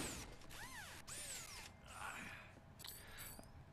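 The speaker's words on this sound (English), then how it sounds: "right now I'm using a basic power drill to spike these girls in the chest here" A basic power drill used as a weapon in the video game Dead Rising 2 whirs and grinds quietly, with sweeping, warbling tones rising and falling over a few seconds.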